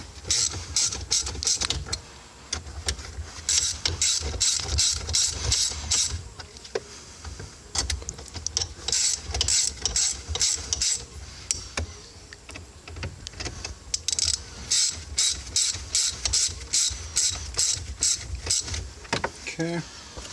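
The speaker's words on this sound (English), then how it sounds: "I believe this is a 12 millimeter and a 10 millimeter socket" Repeated bursts of socket wrench ratcheting with 12 mm and 10 mm sockets during a Buddy Club shifter install in a Honda Element, clicking in quick rhythmic runs with short pauses between strokes, close and fairly loud.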